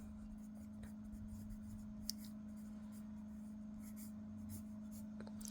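A pen scratches across a paper map as a place is dotted and its name written, soft and close, with faint strokes over a steady low hum.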